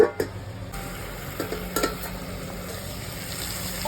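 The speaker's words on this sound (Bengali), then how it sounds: "মশলাটা মিশিয়ে নেব" Spice paste being stirred into fried potatoes in a pan for a Bengali papaya and coconut dish: a low, steady sizzle with a few close scraping and clinking strokes of the spoon near the start, then quieter frying.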